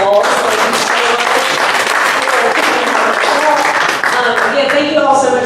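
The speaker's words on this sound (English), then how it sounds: "Let's give our wonderful moderator tonight a big round of applause." Sustained audience applause at a Republican candidates forum, loud and steady across the whole stretch with a dense wash of clapping and some crowd voices mixed in.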